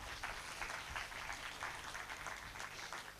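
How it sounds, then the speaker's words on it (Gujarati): An audience at a Shrimad Bhagwat Saptah religious gathering claps together in a fairly faint, dense wash of applause that carries on steadily without a break. "જોરદાર તાળીઓ થવી જોઈએ"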